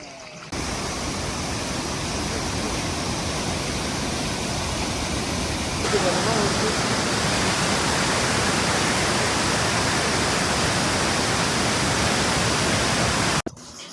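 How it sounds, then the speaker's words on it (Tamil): A roadside waterfall on the way up to Kumily rushes loudly and continuously, a close, dense roar of falling water that swells a little midway and then cuts off. "கிட்ட போக தண்ணி சவுண்ட் நல்லாவே கேட்குதுங்க."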